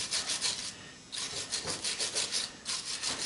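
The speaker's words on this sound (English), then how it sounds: "Clean them out pretty fast with a wire brush." A wire brush scrubs rapidly back and forth, cleaning sawdust and dirt out of screws from a miter saw being scrapped, with close, rhythmic rasping strokes and a short pause.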